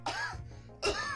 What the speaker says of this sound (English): don't you fucking fake cough at me